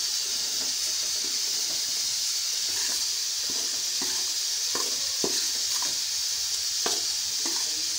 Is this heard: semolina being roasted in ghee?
yes